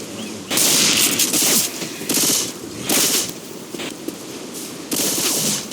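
Sustained automatic gunfire from a Left 4 Dead 2 match as survivors mow down common infected, loud bursts of rapid shots separated by brief pauses and reloads.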